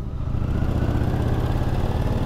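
A Harley-Davidson motorcycle engine rumbles steadily, a deep, loud, continuous low throb with an even pulsing texture, heard alone without any voices.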